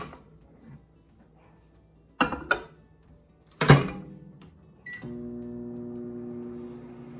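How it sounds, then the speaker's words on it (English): A few clunks and beeps as a microwave door shuts and buttons are pressed, then the oven starts with a steady low hum, heating a cream cheese and potato mixture. "And then we're going to microwave that for 3 minutes."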